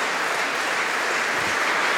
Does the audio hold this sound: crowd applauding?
yes